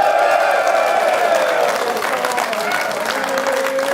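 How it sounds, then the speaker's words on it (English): A live studio audience at a sports talk show applauds and cheers, a dense steady wash of clapping with whoops layered on top. "We've also got a live studio audience. Can you guess? Can you hear them?"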